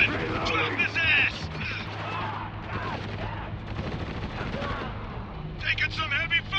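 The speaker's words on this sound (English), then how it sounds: "Taking some heavy fire here!" Heavy gunfire rattles through Spec Ops: The Line combat, with repeated bursts of shots and crashing impacts. Voices shout over the continuous rattle of the firefight.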